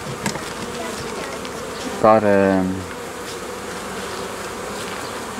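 Honeybees buzz at a hive nucleus being expanded in spring, a steady low drone with a louder, close buzz passing for about a second midway, and a brief word spoken early.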